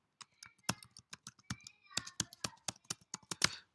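Rapid keystrokes on a computer keyboard while an IP address and login credentials are typed, crisp clicks in an uneven burst with a brief pause midway, close and fairly quiet.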